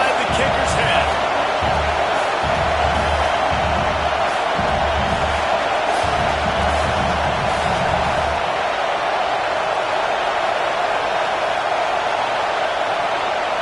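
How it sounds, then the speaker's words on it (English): A stadium crowd at a Texas vs Miami football game roars during a field goal attempt, a loud, continuous wash of noise that stays steady across the whole stretch, with a commentator's voice heard over it. "This crowd trying to do its part to get inside the kicker's head."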